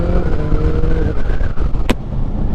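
BMW K1600B motorcycle engine running nearby, a deep, steady rumble with some throttle variation and a sharp click partway through; no talk over it.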